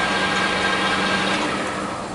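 A Chester Cub 630 lathe runs forward with a steady, even motor whir and broadband hum, close and continuous for a couple of seconds.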